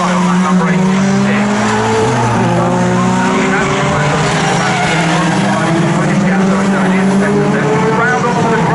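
Pickup trucks race at Snetterton circuit, with loud engines rising and falling in close succession and tires squealing as they corner. A commentator talks over the racing noise.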